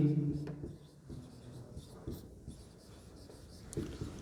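Pen or marker scratches on a board during a Hindi maths lesson on percentages, short scraping strokes in an irregular rhythm heard close, with quiet talking faintly underneath.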